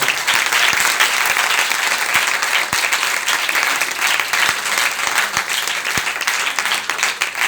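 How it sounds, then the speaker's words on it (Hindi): Loud, sustained applause from a large church congregation, dense continuous clapping with a few sharper individual claps standing out. "जिसने हमारे लिए जगह तैयार की उसके लिए बहुत सारी तालियां बजाइए।"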